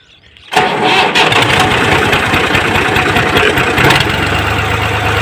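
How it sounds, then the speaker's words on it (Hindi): A tractor engine in a rural village starts up after a moment of near quiet: a brief cranking burst, then the diesel catches and settles into a loud, close, steady idle with a slight rev toward the end. "ये मैं ट्रैक्टर स्टार्ट करने लगा हूँ, ये न्यूट्रल हो गए, इसके गियर थोड़ी सी रेस देंगे।"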